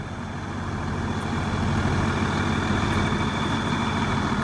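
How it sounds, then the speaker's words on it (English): A Cummins diesel engine in a 2000 Monaco Diplomat motorhome idles steadily nearby, a deep rumbling drone with a regular low throb that holds even throughout. "Got that Cummins diesel idling right now."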